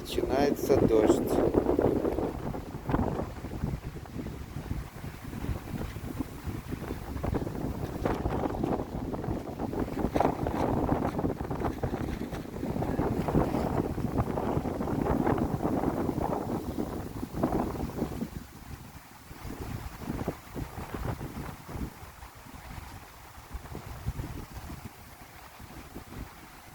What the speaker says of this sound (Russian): И сильный ветер.